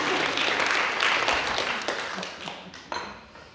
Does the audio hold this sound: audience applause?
yes